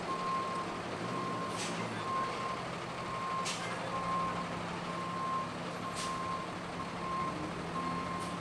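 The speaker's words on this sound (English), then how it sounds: "You ever seen a tow truck towing a trailer with two more cars on it?" Reversing beeps sound on a city street with exotic cars nearby, a faint high-pitched tone repeating steadily at regular intervals over low traffic rumble, with a few brief sharp hisses like air brakes.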